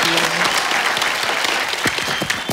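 An audience at a comedy club show bursts into loud, sustained clapping that fills the room and stays steady throughout.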